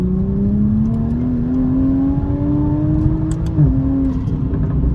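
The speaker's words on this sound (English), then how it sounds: "This car is a very high-pitched inline six sound." A Toyota Supra MK5's high-pitched inline six accelerates steadily, its engine note climbing smoothly with a brief dip near the end, heard loud and close from inside the car, with no talk.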